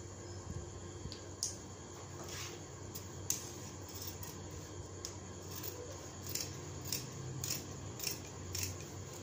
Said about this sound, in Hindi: और इस पर हम इसे कटिंग करेंगे, इसे यहाँ से यहाँ पर हम इसको काट लेंगे।